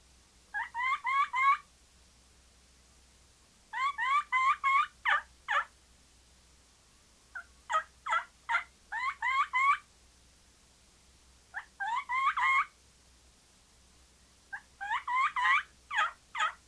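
A mouth diaphragm yelper imitates the high-pitched kee-kee call of a lost young fall turkey, played in five evenly spaced bursts of rapid, shrill whistled notes, clear and close with silence between.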